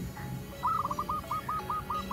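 A perkutut (zebra dove) calling near at hand, a repeated run of soft, rapid cooing trills in a steady rhythm over a low background hum.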